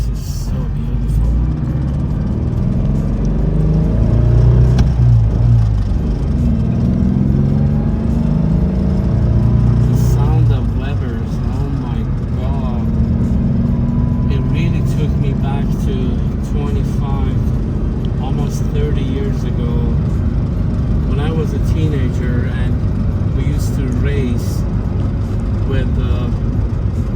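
A vintage air-cooled Porsche 356 being driven, its engine a steady low rumble with road noise throughout and a person talking continuously over it.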